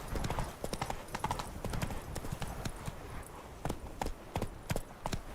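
Hooves of the horse Roach clip-clopping in a video game, a quick run of sharp, close hoofbeats in an uneven gallop rhythm that continues throughout, with no speech over it.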